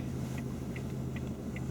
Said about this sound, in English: There's a car behind us